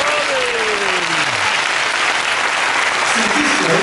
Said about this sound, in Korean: 하나님께 영광의 박수를 드립니다.